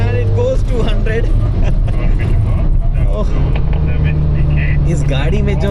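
A Mini Cooper Countryman accelerating hard at high speed, with steady, loud engine and road roar throughout and someone talking over it from inside the car.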